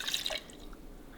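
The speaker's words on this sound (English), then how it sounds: "next I have the 4 tablespoons fresh lime juice" Fresh lime juice drips and splashes into a peanut butter dressing, a few quick close liquid patters at the start and then a faint, quiet tail.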